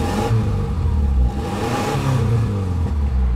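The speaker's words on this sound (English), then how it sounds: "So it revs up nice," A 2000 Subaru Outback Legacy Limited engine with 184,000 miles being revved, a close, loud rising and falling engine note with a brief dip midway, heard alone.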